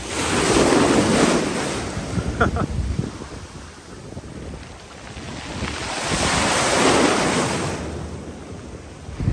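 Large waves roll in and crash on a rocky beach on the Greek island of Hydra, loud and close. The surges rise and fall in long washes, mixed with gusty wind noise on the microphone.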